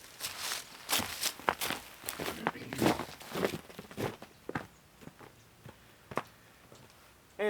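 Footsteps on a hard floor retreat from a Rode VideoMicro II camera microphone, a string of moderately loud, irregular steps that grow fainter as the walker moves about twenty feet away.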